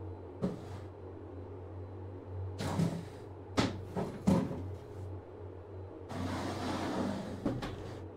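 Door closing in the horror video game SUBJECT, heard as several thuds and knocks spread over a few seconds, then a longer rattling scrape, over a steady low hum with no speech.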